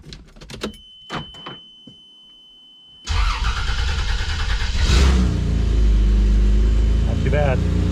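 An old Toyota 80 series Land Cruiser that sat unused for years cranks and fires up, its engine catching loudly and settling into a rough, steady idle nearby, preceded by a few clanks and thuds.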